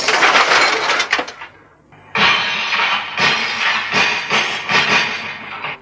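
Glass being smashed to be sampled on a Fairlight computer instrument: a series of loud, bright crashes with tinkling shards, a short pause near the two-second mark, then renewed repeated breaking and scattering fragments.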